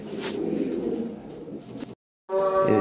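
Pigeons coo close by, black Lahori Siraji birds offered for sale, a steady layer of low calls running through, broken by a short silence before another burst of cooing and chirps.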